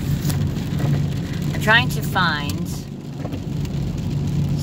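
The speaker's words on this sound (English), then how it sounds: "it's raining and I don't want to drive in the rain anymore" Steady rain drums on a car moving through stormy city streets, with a constant wash of road and rain noise while a person talks over it.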